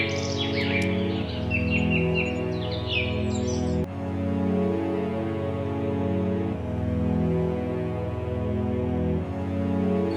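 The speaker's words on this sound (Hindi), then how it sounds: "चिड़िया ऐसे ही उड़ती रहती है लेकिन उसको रास्ता नहीं मिलता।" A small cartoon bird chirps in quick high bursts near the start, over a steady layered musical drone that carries through the rest.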